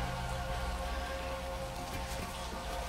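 Rain in a scene from the film Blade Runner, a constant hiss of rainfall and dripping over low droning score tones, moderately loud and unbroken, with no speech.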